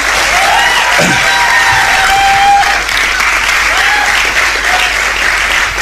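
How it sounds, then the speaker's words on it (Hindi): A crowd applauds at a Hindi motivational success-stories talk, the clapping loud and continuous, with a bit of cheering and a voice speaking over the applause partway through. "तालियां बजाओ दोस्तों।"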